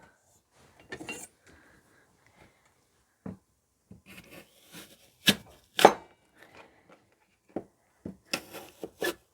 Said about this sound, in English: is we're just going to chop them up